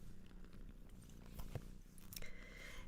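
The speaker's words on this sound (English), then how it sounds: "Can you hear her purring?" A cat purring steadily at close range, a continuous low rumbling throughout, with a few faint rustles and mouth sounds mixed in and no talking.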